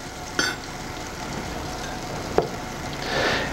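Butter melts and sizzles softly in a pan, a steady low crackle broken by two sharp clinks of a utensil, with the frying swelling slightly louder near the end.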